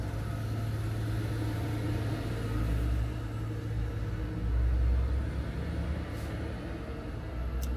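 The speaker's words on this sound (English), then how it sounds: "I'm gonna let this truck go by because it's loud." A steady, heavy engine rumble swells and fades as a large truck passes close by at a busy trucking hub, loud throughout with no speech.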